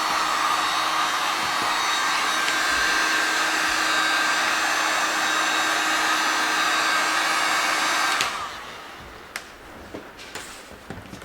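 A heat gun warms a welded teak deck panel, giving a steady, loud, close airy roar with a faint whine for about eight seconds before cutting off, followed by quiet handling clicks and taps.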